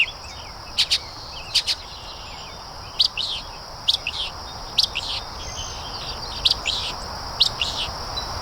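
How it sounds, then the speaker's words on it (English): Mockingbird singing outdoors at Benjamin Rush State Park, Pennsylvania, a series of sharp, bright chirps and short phrases repeated at irregular intervals over a steady background of insect drone. "it's definitely a mockingbird"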